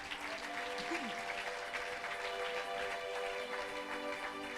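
A church congregation applauds steadily throughout, a dense continuous clatter of many hands filling the room, with faint voices mixed beneath it.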